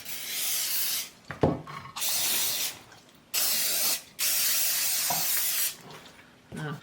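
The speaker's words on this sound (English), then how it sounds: "it's best if you spray your pan, and I use the butter spray" Butter-flavored cooking spray hisses onto a baking pan for a peach cobbler in several long close bursts, separated by brief pauses with faint handling noises.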